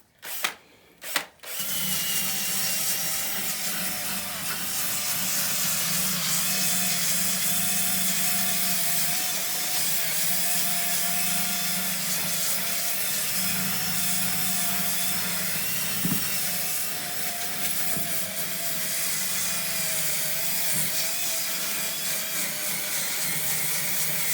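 A wire brush cleans a horse's hoof before gluing, making a loud, steady, continuous grinding whir that runs almost unbroken for over twenty seconds after a few brief knocks at the start.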